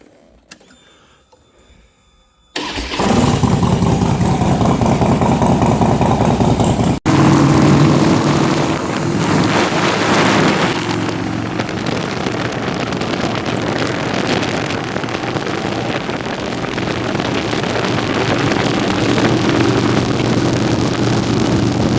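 A motorcycle on a test ride after an oil leak repair, heavy roaring wind noise with engine drone under it, loud and continuous after a quiet start with a brief break midway.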